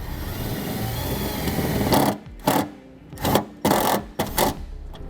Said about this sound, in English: use the self-tapping screw in order to ground it.